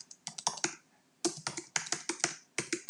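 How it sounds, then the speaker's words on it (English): Computer keyboard keys tapped in two bursts of quick, fairly close keystrokes with a short pause between, clear and crisp with no talking. "So I'm going to type"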